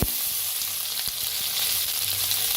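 Crushed garlic and green chilli fry in hot oil for sambar, a loud, continuous close sizzle with a few faint stirring knocks.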